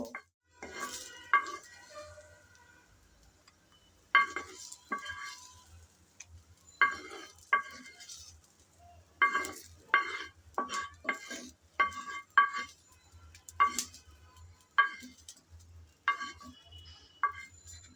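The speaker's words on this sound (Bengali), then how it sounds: "নেড়ে চেড়ে পেঁয়াজ হালকা ব্রাউন কালার করে ভেজে নিয়েছি" Sliced onions fry in a dry pan and are stirred repeatedly, giving quiet sizzling under sharp spatula scrapes and clinks that come in irregular bursts, close by and fairly soft.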